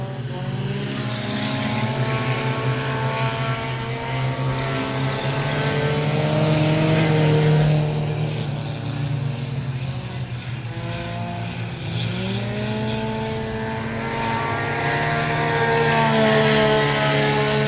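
Race cars in a USRA Tuners heat race at I-37 Speedway, engines roaring loudly and continuously with rising and falling pitch as they accelerate and pass, dense overlapping motor noise with no voices.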